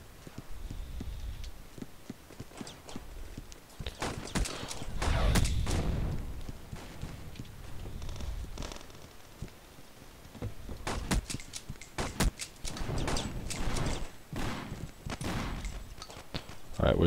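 Pump-action shotgun fire in the stickman combat game Boring Man, several heavy booming shots spaced irregularly amid other game effects and a bursty cluster of reports near the end.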